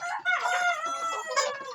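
Chickens on a poultry farm, eight weeks and five days old, cluck and call in a dense, continuous chorus with a rooster-like crow rising among them, close and fairly loud.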